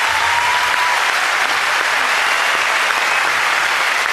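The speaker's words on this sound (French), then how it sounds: "J'aimerais également qu'on donne une bonne main d'applaudissement pour tous les humoristes qui étaient sur le spectacle" Comedy gala audience giving loud, dense, continuous applause in a theatre, steady clapping without a break and no speech.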